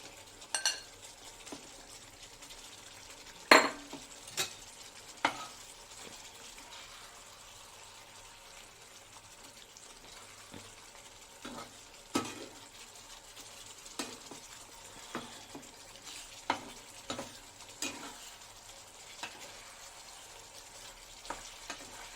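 Fried bhetki fish pieces simmering in a malai curry give off a soft, steady frying sizzle with occasional louder clinks and stirring knocks from the pan, heard alone without talk.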